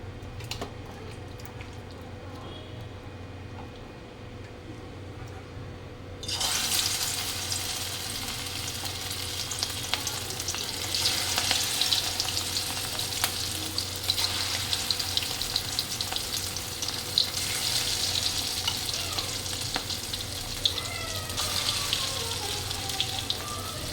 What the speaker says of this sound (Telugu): ప్రాన్స్ అన్నిటినీ కూడా, రొయ్యలన్నిటినీ డీప్ ఫ్రై చేసుకోవాలి.